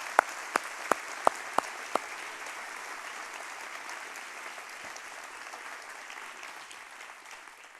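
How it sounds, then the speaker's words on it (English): Audience applause at a community foundation's annual meeting, a steady wash of many hands clapping that carries on for the whole stretch, with a few sharp, loud claps standing out near the start. "Let's give all of them a huge round of applause for what they do."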